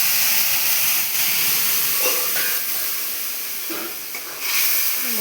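Spices hit a hot pan and sizzle, a loud, steady broadband hiss close up that carries on throughout with slight swells and dips.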